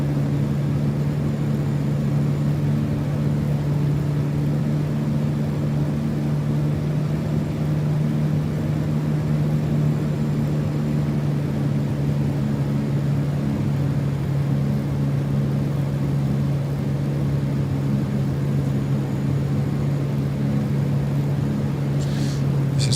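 Spitfire Mk Ia piston engine in Microsoft Flight Simulator during a landing pass, a steady loud droning hum that holds level throughout with no voices over it.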